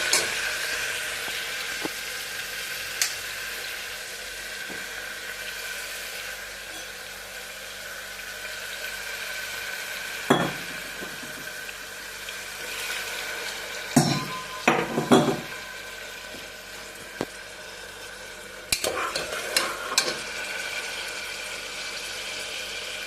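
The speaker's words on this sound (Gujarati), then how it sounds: "તો ગરમ આપણે તેલ તો ગરમ જ છે, તો એમાં નાખી દઈશું આપણે આદું અને લસણ" A paste of ginger, garlic, mint and chili fries in hot oil with a faint, steady sizzle, punctuated by a few clinks of a utensil against the pot.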